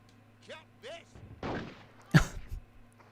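Rifle shots in a PS1 video game demo, a few short sharp reports spaced apart, fairly quiet, with brief voice-like game sounds before them.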